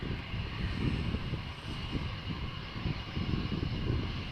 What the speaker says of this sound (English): So this is an Airbus A319 from British Airways, Speedbird flight 433 going to London Heathrow